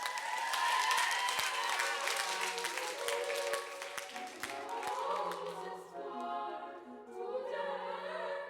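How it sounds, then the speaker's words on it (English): Young choir trebles applaud themselves after singing Handel in Oxford, a steady wash of clapping that fades partway through while faint tones and voices show underneath. "Give yourselves a round of applause."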